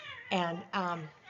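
A house cat meowing nearby indoors: two distinct, fairly loud meows in quick succession, with a brief pause between them.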